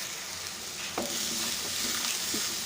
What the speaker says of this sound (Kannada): ನಾನು ಬಾಣಲೆಗೆ ಸ್ವಲ್ಪ ಎಣ್ಣೆ ಹಾಕ್ಕೊಂಡಿದ್ದೀನಿ ಅದು ಬಿಸಿಯಾದ ನಂತರ ಹೀರೆಕಾಯಿ ಹಾಕ್ಕೊಂಡಿದ್ದೀನಿ